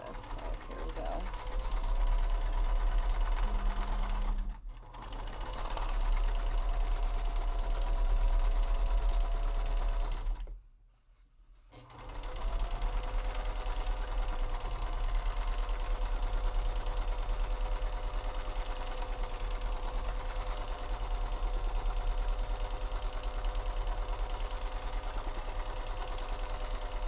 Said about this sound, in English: I just need to do the sewing part, like just more random sewing over this